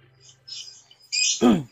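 A lovebird gives a few short, bright chirps and twitters in quick bursts, close and clear, ending in a harsher, louder squawk-like call.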